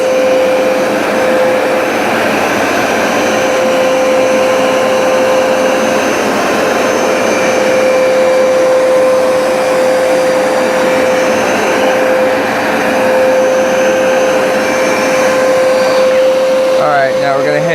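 A Hoover SmartWash carpet cleaner runs continuously at close range, a loud, steady motor roar with a sustained whine throughout.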